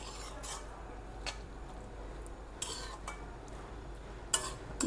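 Lau shak (bottle gourd greens) curry being stirred in a cooking pot, with sporadic soft scrapes and light metallic clinks of a utensil against the pot over a low, steady background.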